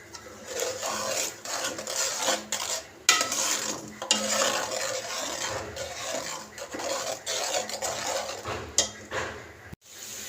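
A spoon stirs salt, dried chili, turmeric and ground coriander into tomato paste in a pan for an Afghani borani baingan, giving steady close scraping and rubbing with occasional metallic knocks against the pan.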